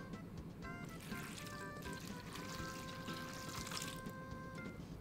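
A glass of water is poured over a Cooler Master MasterKeys Lite L RGB keyboard, a steady splashing, trickling pour lasting several seconds at close range, alongside faint tonal background sounds.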